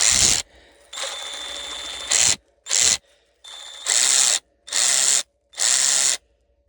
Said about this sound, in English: I left these ratchets out overnight just to see how the batteries hold up.